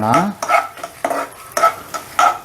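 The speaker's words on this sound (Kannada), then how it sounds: "ಇದನ್ನ ಫ್ರೈ ಮಾಡ್ಕೊಳ" Mutton fries in a pan while being stirred, with five or six rhythmic scraping strokes of a utensil against the metal over a sizzling background, close and loud.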